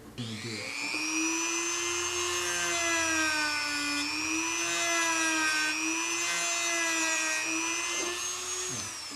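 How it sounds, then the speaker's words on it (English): A Dremel rotary tool spins at high speed while its cutting edge trims and edges material, a loud steady whine with slight wavering pitch and brief starts and stops of contact, heard alone without speech. "The edge of the Dremel will cut just like a knife. You can start edging right around here."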